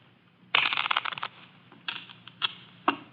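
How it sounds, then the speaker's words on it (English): A new deck of playing cards is shuffled as a sound effect in an old-time radio drama. A quick, crisp riffle flurry is followed by a few separate sharp taps and flicks against a quiet background. "Here's a new deck. Shuffle them, Mitch."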